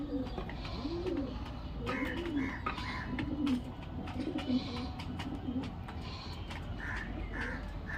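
Repeated throaty cooing from pigeons kept in a home loft, several birds overlapping at moderate volume, with scattered sharper calls in between.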